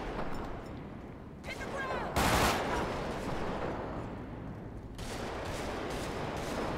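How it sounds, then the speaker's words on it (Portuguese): Gunfire in GTA 5 during a night police patrol shootout, a burst of loud, dense shots with an abrupt sharp blast partway through, mixed with continuous noisy action and voices. "Tá alguém atirando na minha parceira"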